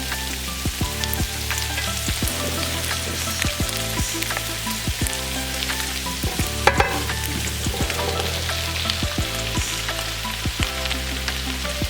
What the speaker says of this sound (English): we're going to add the rest of the vegetables. The bok choy, the mushrooms, and the, I don't know why I can't remember the name of these, snow peas.